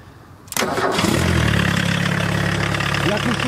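A homemade buggy's Volkswagen Golf 1.6 engine cranks and catches abruptly, then settles into a steady, loud low idle that runs on without pause.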